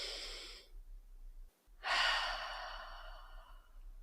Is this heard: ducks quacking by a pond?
no